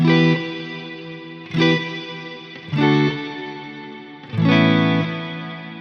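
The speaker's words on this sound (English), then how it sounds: "on my first pedal, I have a bright plate reverb" Electric guitar through a Neunaber Immerse pedal set to a bright plate reverb: four strummed chords, each ringing out with a shimmering, airy tail that decays before the next.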